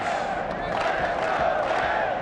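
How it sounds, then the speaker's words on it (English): A crowd at the 1997 NHL Draft roars and cheers, a broad sustained swell of voices in a large arena, fairly distant and steady throughout. "the cheer goes up for the Pittsburgh Penguins"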